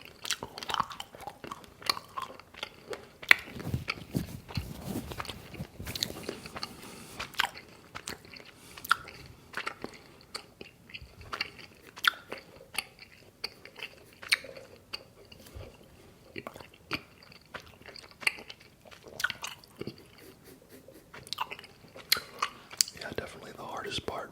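Gum is chewed close up with soft, wet smacking and crunchy bites repeating steadily, mixed with faint whispering and small scratchy sounds.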